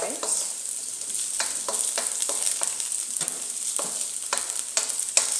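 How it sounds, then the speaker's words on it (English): Carrots and green peas sizzle in a hot pan while a utensil scrapes and stirs them in repeated sharp strokes, close up over a steady frying hiss. "So I will keep on stirring these two ingredients together and give them time for them to cook nicely"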